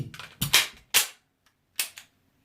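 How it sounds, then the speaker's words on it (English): A handgun loaded with snap caps is dry fired until the slide locks open on the last round, then the magazine is swapped. A few crisp, close mechanical snaps and clacks ring out, separated by short silences. "So say you're shooting, shoot, I got snap caps in there, shoot, right? Holds open on the last round."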